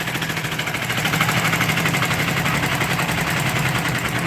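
An amusement ride's engine runs close and loud, with a steady pulsing idle rumble and a rough, vibrating chug that holds even throughout, with no talk over it.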